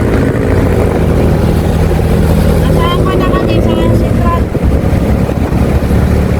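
Night road traffic in Quiapo, Manila: a steady, loud wash of engines and rolling vehicles close by, with brief horn-like tones partway through and voices mixed into the din.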